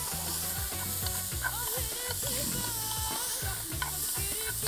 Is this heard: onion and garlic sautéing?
yes